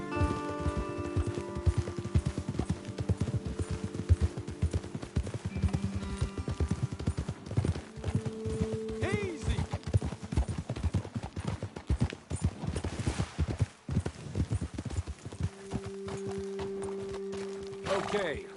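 Horse hooves clip-clopping in an irregular trotting rhythm in Red Dead Redemption 2, close by, with faint game music tones and ambient background underneath.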